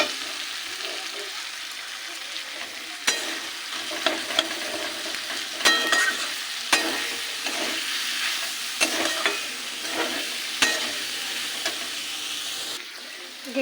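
Boiled banana flower and potato in a pan with a little water, soft simmering sizzle with intermittent scraping stirs and a few sharper utensil knocks, close and steady throughout.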